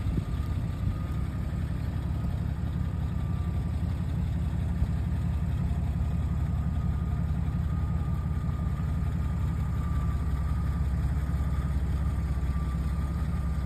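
A Jeep Cherokee XJ engine idles steadily, a low continuous rumble with a faint vibrating hum, close and unchanging, with no one speaking.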